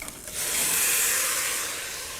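Meat goes back into a hot pot with a loud hiss of sizzling steam that swells quickly and holds steady, close up and with no talking.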